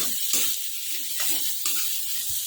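Bitter gourd frying with onions in a pan, giving a steady sizzle with soft stirring and scraping throughout, close by and moderately quiet, with no voices.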